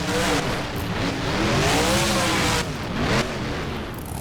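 Monster truck engines roaring and revving at a stadium dirt track in the BeamNG.drive racing game, a loud, close, continuous engine drone with rising and falling pitch sweeps and brief shifts.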